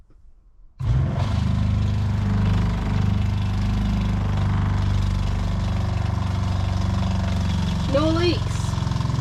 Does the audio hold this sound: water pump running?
yes